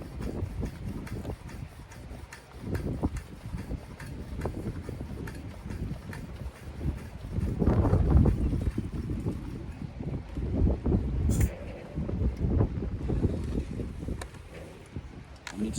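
A Coleman-fuel camping stove is pumped to pressurize it outdoors by a harbour: a steady run of rhythmic, knocking pump strokes close to the microphone, with wind buffeting throughout.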